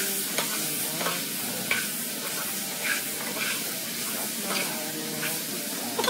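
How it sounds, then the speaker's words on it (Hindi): Mushroom pieces sauté in hot oil with mustard seeds, cumin, turmeric and salt, giving a steady close sizzle and hiss broken by repeated scraping stirs. "इसको थोड़ी देर सॉटे करेंगे"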